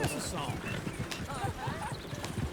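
Horse hooves clip-clop at a steady trot in the video game Red Dead Redemption, close and continuous amid dense game ambience.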